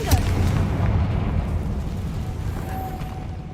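A Confringo fire spell explodes in Hogwarts Legacy, a loud booming blast with a rumbling low-end tail that slowly fades over a few seconds, with no talk.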